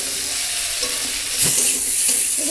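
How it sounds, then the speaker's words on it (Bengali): Fried cauliflower is stir-fried with spices in a pan, a loud, constant close sizzle with a brief scrape of stirring midway and the crackle swelling afterward. "এবার ভেজে রাখা ফুলকপিটাও একসাথে মশলার সঙ্গে কষিয়ে নেব।"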